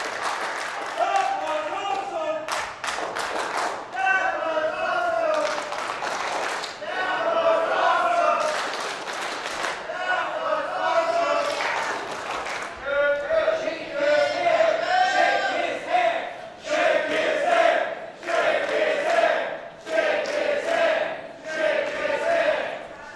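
Wrestling crowd at a Relentless Wrestling event, a mass of voices cheering and chanting in loud swelling waves with claps and stomps, an announcer talking over it.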